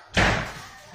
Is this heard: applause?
no